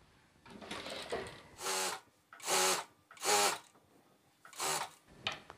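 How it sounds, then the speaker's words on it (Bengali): A sewing machine stitches fabric for a pair of shorts in about five short, whirring bursts, each lasting under a second, separated by brief pauses. The stitching is close and clear, with no talking. "আর এই সেলাইটা দেওয়ার সময় নিচের কাপড় টান দিবেন।"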